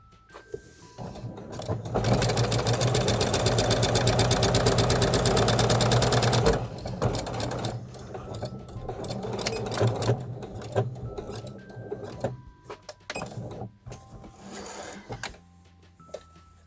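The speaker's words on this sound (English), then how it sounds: "we're going to sew down here about 1/2 inch in." A sewing machine stitches a rag quilt in a steady, rapid, loud mechanical run for several seconds, then stops and gives way to quieter handling noises and shorter bursts of stitching.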